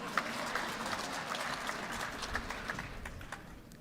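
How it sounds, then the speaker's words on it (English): A round of applause rises from the audience at a Genocide Remembrance Day ceremony in Namibia. The clapping is faint and scattered, with individual claps standing out. "Give me a round of applause."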